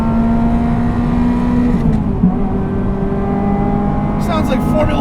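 A Ferrari F355 GTS with a manual gearbox hums steadily from inside the cabin, its engine tone holding and then shifting slightly as it revs, loud and close.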